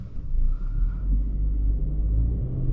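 A 2020 Kia Soul S on the road, heard from inside as a steady low engine and road rumble, continuous and fairly loud, with no speech.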